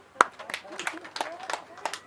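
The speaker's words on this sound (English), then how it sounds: "Come, clap for him." A few people in a seminar room clap sparsely for a volunteer, scattered separate claps over about two seconds, fairly quiet, with voices talking alongside.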